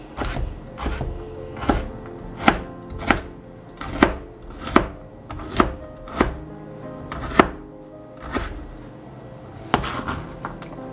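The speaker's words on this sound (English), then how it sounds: "Now you can cut the celery and the carrot however thick you like." Celery and carrot are chopped on a chopping board, the knife striking in a steady run of sharp, close thuds about twice a second, with a few short pauses.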